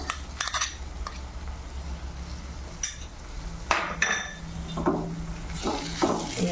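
Paste being stirred into a buttermilk and flour batter for Kathiyawadi kadhi: irregular clinks and scrapes of a spoon against a metal pot recur over a low background hum.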